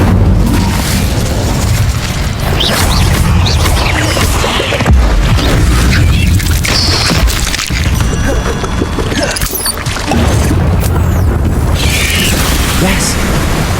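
An Incendio fire spell is cast in Hogwarts Legacy, giving loud, booming bursts that run steadily throughout, mixed with a voice.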